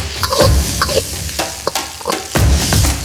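Loud sizzling from Vietnamese fried rice with fish sauce, garlic and spring onion stir-frying in a hot wok, with several bursts of scraping and tossing as it is stirred, close up.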